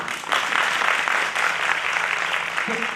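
An audience of devotees at a Bhramar Geet religious discourse claps steadily and loudly for several seconds, a dense wash of hands with a brief voice near the end.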